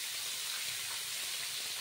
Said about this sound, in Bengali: আর এইদিকেও দেখো তেল গরম হয়ে গেছে, এবার মাছগুলো ভেজে নেব।